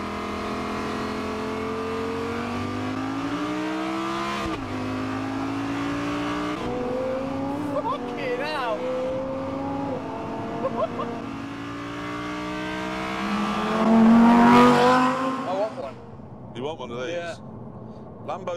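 A Lamborghini's engine revs and accelerates through rising gear pulls, ending in a loud surge before settling, heard close from inside the car while someone talks over it throughout.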